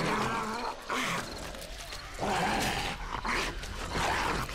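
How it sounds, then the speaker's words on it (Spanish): A horde of dogs in the video game 7 Days to Die growls, snarls and barks loudly and close by, in overlapping bursts that run without pause amid a dense, chaotic din. "Se ha juntado la horda de perros con la horda del día 14"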